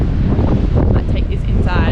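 Strong coastal wind buffeting the microphone in loud, continuous low rumbling gusts, with faint voice-like sounds mixed in.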